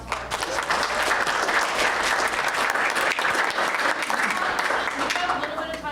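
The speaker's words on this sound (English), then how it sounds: "let's give a round of applause for it" Sustained applause from a workshop audience on construction-site sediment management, a steady dense patter of many hands that holds at an even level for about six seconds.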